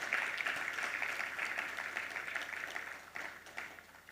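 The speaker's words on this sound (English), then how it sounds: "A round of applause to her" Soft, continuous applause from a conference audience welcoming a panelist at a forum session, a steady mass of clapping that rises briefly near the end, somewhat distant and fairly quiet.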